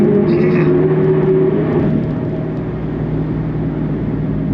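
A 2006 Chevrolet Corvette C6 cruising on a freeway, with a steady, loud interior drone of engine and road noise that eases slightly in level; no talk is heard.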